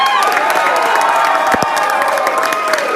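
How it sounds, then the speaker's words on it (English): A large rally crowd at a Victorian election event bursts into sustained applause and cheering for nurses, a dense continuous roar with whoops rising above it throughout. "We'll give our nurses a big round of applause."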